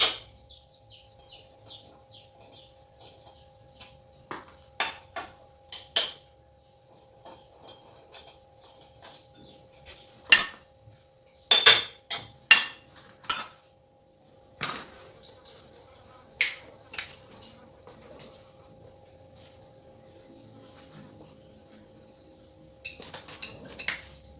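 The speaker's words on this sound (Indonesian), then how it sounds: "Jangan lupa lepaskan baut penindis rantai." Tools work the chain tensioner bolt off a motorcycle during a home piston-ring service, producing scattered sharp metallic clicks, taps and clinks with quiet gaps between them, a few louder knocks bunched near the middle.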